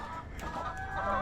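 Hens cluck softly inside a backyard chicken coop, a low murmuring cluck close by with a slight rise toward the end and no talking over it.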